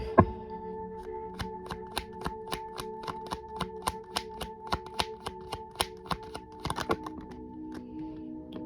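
A deck of tarot cards shuffled by hand in a quiet room, a long string of crisp riffling snaps and slaps in a fairly even rhythm, close up, over a faint steady hum.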